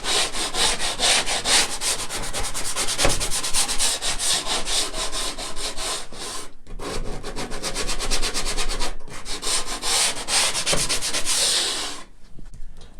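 A flexible sanding block is rubbed back and forth along melamine edge banding on a chipboard shelf. The close, raspy strokes are steady and rhythmic, with two brief pauses, and end with a short tail.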